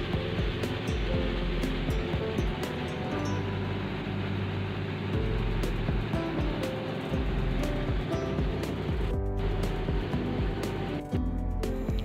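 Lake water churns and splashes steadily against a boat on Govind Sagar Lake in Bilaspur, Himachal, under a constant engine drone, with no pause across the ride.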